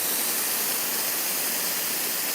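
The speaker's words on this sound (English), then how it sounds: "Got the no burn steam wand." Steady broadband hiss from the no-burn steam wand on a Rocket Espresso R58 or R60 espresso machine, continuous and fairly loud throughout with no pauses or voices.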